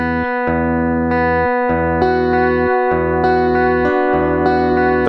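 Dense overdubbed loop building on an Echoplex Digital Pro looper with feedback, layered sustained tones and repeating chord changes roughly every second, loud and continuous with rhythmic dips, no voices.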